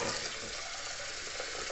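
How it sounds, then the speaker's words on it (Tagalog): Running water in a kitchen sink as lentils are rinsed, a steady close hiss and splash throughout a short stretch. "Hugasan natin konti yung ating lentil."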